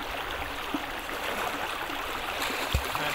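Cibolo Creek runs as a steady broadband stream, a continuous rush of flowing water with a couple of faint knocks or splashes and no speech.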